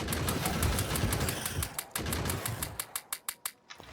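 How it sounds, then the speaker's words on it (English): Turret gunfire in Factorio rattles in rapid bursts against biters, a dense stream of shots that thins into separate evenly spaced cracks near the end, with no voices. "the safer way is to put down a turret and put some ammo in there"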